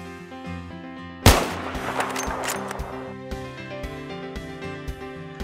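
A sharp, loud sniper shot cracks out in the video game's Operation Firestorm map on a long-range headshot, followed by a rolling, fading echo tail over a background of sustained musical tones.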